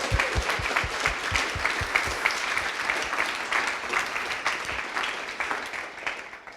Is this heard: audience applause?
yes